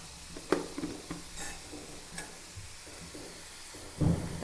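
Quarter kilo of medium onions, salted, frying in a small cheenachatti, soft sizzle with scattered clicks and stirring taps, close and fairly quiet, heavier scraping near the end.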